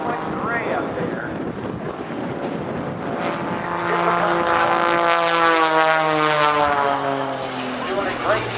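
Propeller aerobatic airplane flying a rolling half Cuban eight at a Navy airshow, a loud droning engine whose pitch rises and falls as it rolls and climbs, with wind buffeting the microphone throughout.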